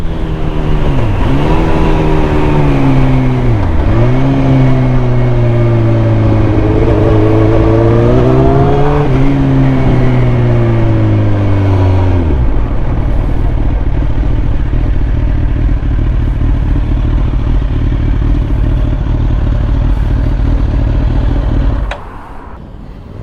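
A faulty motorcycle engine revs unevenly with wavering pitch, then the revs drop abruptly and the engine cuts out to a rough, lumpy idle before falling quieter near the end; loud and close, with no talk.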